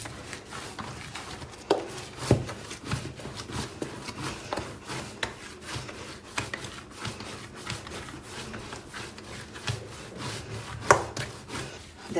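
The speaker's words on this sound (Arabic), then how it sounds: "كنعجنها مزيان، ضروري ما خصها تعجن وتكون مرخوفه" Moroccan msemen dough made with bran yeast is kneaded by hand, giving continuous soft rubbing and slapping sounds in an irregular, steady rhythm, close and fairly quiet, with no talk.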